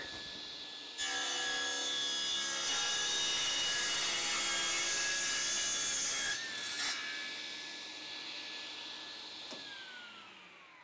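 A power saw cuts through solid wood for a workbench, a loud sustained whining rasp that starts abruptly, holds for several seconds, then changes pitch and winds down as the blade coasts to a stop.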